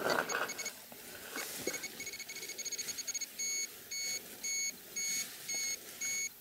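ECOTEST radiation dosimeter sounding its alarm, a quick run of high beeps that shifts into longer, evenly spaced tones, close and clear over faint background noise.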